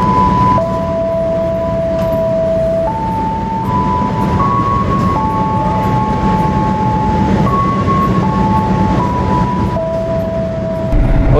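An economy-class passenger train on the Jakarta to Yogyakarta route, the Jaka Tingkir service, rumbles steadily with a loud, continuous roll of wheels and carriage noise, with sustained tonal whines shifting pitch throughout.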